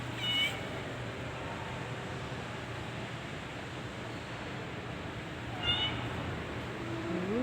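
A pet cat gives two short, faint meows several seconds apart over a steady background hiss, with no voices.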